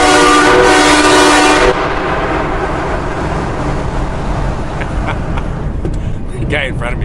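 A train horn fitted to a semi truck blasts inside a tunnel, a loud harmonic chord that lasts about a second and a half and then cuts off, leaving rumbling road and engine noise with faint background voices.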